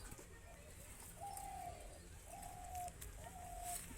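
Madrasi pigeons coo in three soft, drawn-out calls with short gaps, heard faintly over steady background noise.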